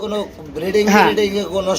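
Pigeons kept for breeding coo in soft, throaty rolling calls close by, while someone talks over them through most of the moment.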